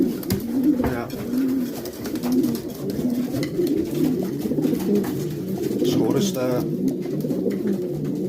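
Racing pigeons coo in a low, continuous murmur throughout, steady and fairly close, with a few voices talking over them.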